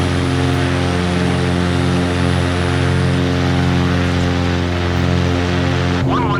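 A Cessna 182RG piston engine in Microsoft Flight Simulator 2020 drones loud and steady throughout, and a brief whirring sweep near the end could be the retractable landing gear moving.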